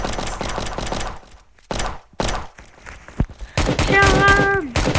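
Rapid bursts of gunfire in the Roblox game Prison Life, sharp repeated cracks that thin out into scattered single shots and thuds, then pick up again alongside a rising tonal whine near the end.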